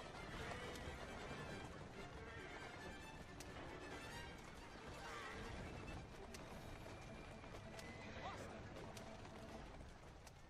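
Horse-drawn carriage in Assassin's Creed Syndicate: dense, continuous clatter of hooves and rolling wheels with horse whinnies, mixed under busy game noise and a talking voice throughout.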